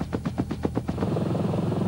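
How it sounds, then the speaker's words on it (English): Mil Mi-4 piston-engined helicopter in flight, its rotor beating in a steady rapid chop that blurs into a continuous drone, loud and fairly close with no voices. "In August 1952, the Mi-4 flew for the first time."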